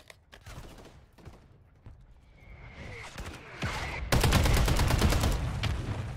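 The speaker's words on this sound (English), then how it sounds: "Got a mortar strike coming down on it." A mortar strike in Call of Duty gameplay sets off a series of sharp blasts and crackling gunfire, starting sparse and swelling into a loud, dense barrage in the second half.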